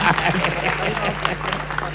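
Audience applause for Sinta at a Haul commemoration event for Pak Harto, a steady crowd clapping at moderate level with a low hum underneath and some voices mixed in.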